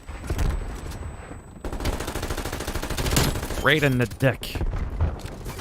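AK rifle fire in a video game, loud rapid automatic bursts that run almost continuously, with someone speaking briefly over the shooting.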